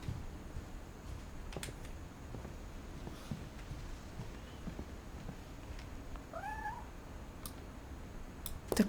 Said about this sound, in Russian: Это кошка.